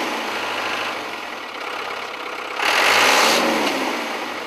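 A tractor engine idles with a steady mid-range rumble, then revs up sharply before settling back, heard close at an outdoor environmental event in Tanzania.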